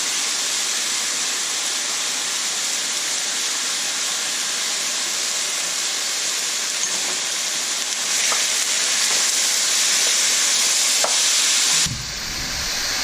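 Pork riblets sizzle steadily in a hot pan with sugar, hoisin sauce and dark soy sauce, making a constant bright frying hiss with a few faint clinks and a brief scrape near the end, with no talking.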